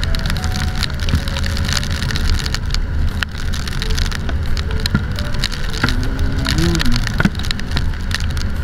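Heavy rain pours steadily in Baguio City during the rainy season, a dense continuous hiss close around, with a brief passing engine whine near the end.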